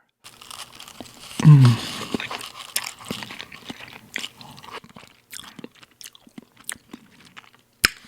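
Someone eating lime chili shrimp instant cup noodles close up, with a loud crunching bite early on followed by scattered soft chewing, slurping and clicking sounds in quiet surroundings.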